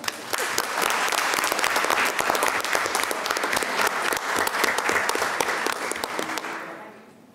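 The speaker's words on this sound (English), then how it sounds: "Applause for me." Sustained audience applause at a school board of education meeting, a dense, steady wash of many hands clapping that holds strong for about six seconds before tapering off.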